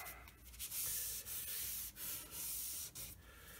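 A rag rubs and scrubs across the face of a freshly scraped 12-inch cast iron straightedge, giving close, steady swishing strokes in several bursts with brief pauses between them.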